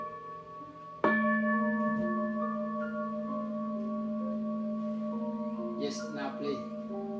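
A Buddhist meditation bell at a temple retreat: one clear strike, then a long, resonant ring that slowly fades over several seconds, with faint voices and rustling in the background.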